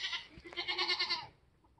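Goats bleat loudly and close by, with a long wavering call stretching over most of the moment before it fades into quiet.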